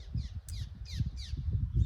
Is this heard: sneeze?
no